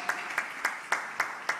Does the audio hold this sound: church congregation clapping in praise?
yes